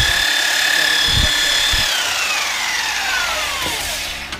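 A powered sanding bat smooths a stave-built wooden djembe drum turned in a V groove. A loud, steady motor whine with a gritty abrasive hiss gradually slows and drops in pitch as it winds down, punctuated by a few low thumps.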